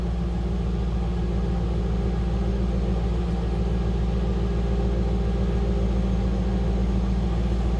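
A 2002 Chevrolet Camaro Z28 convertible engine runs at a steady idle, with a close, even, low rumble and a fine regular pulse that holds for several seconds with no talk.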